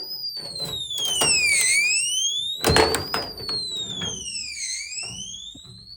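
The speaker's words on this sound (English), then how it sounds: "If you attempt to try the code or the wrong fingerprint too many times, it will play an alarm." A loud electronic alarm from a KAER biometric home safe, triggered by wrong codes or fingerprints, sweeps up and down in repeating siren-like wails, with clattering and handling noises underneath.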